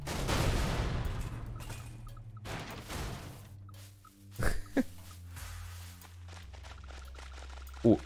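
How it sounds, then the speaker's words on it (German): Goat Simulator game sounds with a sudden sharp explosion burst near the middle, followed by a couple of quick loud pops among rumbling gameplay noise and background effects. "Oh, Explosion."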